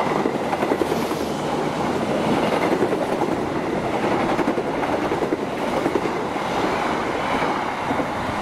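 A train rolls through Klari station in Indonesia, a loud, steady rumble of wheels on rails with rhythmic clickety-clack that continues throughout, close by and without voices.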